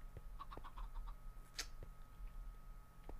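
Chickens cluck softly in the Minecraft Stoneblock 3 modpack, a few faint short clucks and ticks scattered over quiet background hum.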